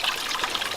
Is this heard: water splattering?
yes